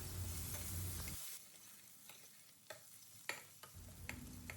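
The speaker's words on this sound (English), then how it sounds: "on medium flame we will fry them well until the raw taste goes away and they turn brown in color" Minced onion, ginger and garlic frying in a pan over a medium flame: a faint sizzle with soft stirring scrapes and a few sharp clinks, the sizzle dipping briefly midway before returning.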